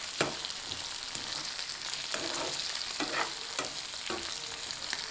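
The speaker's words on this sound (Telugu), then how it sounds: "ఇప్పుడు జీలకర్ర వేసేసుకోవాలండి. కొంచెం బ్రౌన్ వచ్చే వరకు ఉంటే బాగుంటాయి వేగితే." Cumin seeds fry in hot oil in a pan for a goru chikkudu (cluster bean) chutney, a steady close sizzle with a few stirring scrapes at regular intervals.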